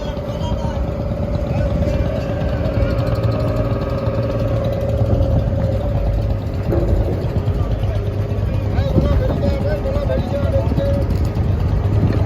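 Small passenger launch boat engine idling at a river ghat, a steady low droning hum throughout with people talking over it.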